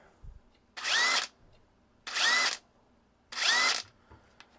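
Ryobi cordless impact wrench runs in three close bursts of about half a second each with a whirring, hammering rattle, separated by quiet pauses; no talking.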